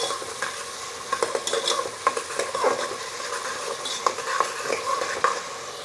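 Chopped onions with a little salt fry in hot oil for a goat head curry, a soft steady sizzle broken by scraping, clinking stirs of a utensil in the pan.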